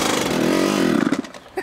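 A Kawasaki KX 100 dirt bike engine runs loud and close with a buzzing two-stroke drone, then breaks up and drops away near the end.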